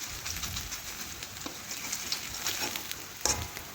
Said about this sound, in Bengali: এক পাশ লাল লাল ভাজা হয়ে গেছে